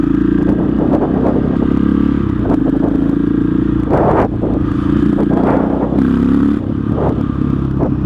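A KTM 660 SMC single-cylinder motorcycle engine thrums loudly and continuously while being ridden, with rises and dips in revs and brief louder bursts of wind and clatter.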